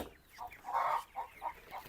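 Chickens and a rooster clucking on a village farm where broilers and hens are kept, a few short clucks in a steady rhythm with one louder, longer call, close by and fairly faint, no talking.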